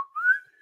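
A man whistles a brief rising note from the Harlem Globetrotters song, a single clear tone that slides upward and holds, heard alone and close.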